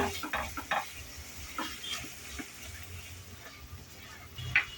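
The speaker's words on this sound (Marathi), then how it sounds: "दही छान मिक्स करून घ्यायचंय" A spoon stirs curd into a thick mushroom masala in a pan, scraping over a soft sizzle of frying, close up and without talk.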